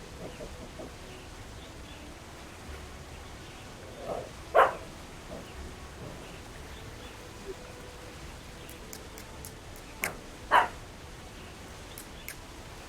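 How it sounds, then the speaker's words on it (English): Two short, loud dog barks ring out about six seconds apart against a quiet indoor background, with faint scattered noises between them. "You're barking too loud."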